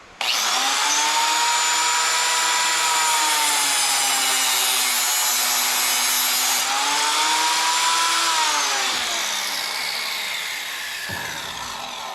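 An old Milwaukee 5192 power tool runs steadily at close range with a loud, sustained motor whine whose pitch dips and rises as it loads, winding down near the end; no talking.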